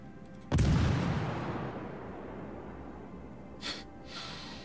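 Naval gunfire from a warship in World of Warships: a single heavy boom that rolls off into a long rumbling decay, followed by two faint, brief crackling bursts in the distance.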